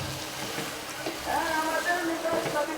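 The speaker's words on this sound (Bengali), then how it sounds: "নেড়ে চেড়ে" Chana dal and mutton being stirred in a pot, soft scraping and gentle sizzling from a moderate distance, with low background noise.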